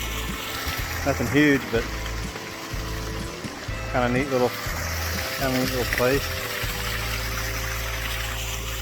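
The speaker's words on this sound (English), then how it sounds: "So found a little stream up here." A small stream flows beside a rainy hiking trail, a continuous soft rushing of water heard throughout while someone talks over it.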